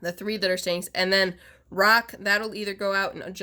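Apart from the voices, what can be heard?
No everyday noises stand out.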